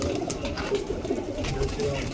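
Kalsara pigeons coo in soft, low, rolling murmurs close by, a steady burble over light background noise.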